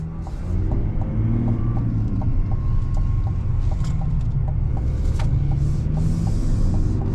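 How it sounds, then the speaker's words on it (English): A Chevrolet Silverado ZR2 Duramax diesel pickup truck engine idles steadily with a low, continuous rumble and faint mechanical ticking. "that diesel noise just sounds real nice."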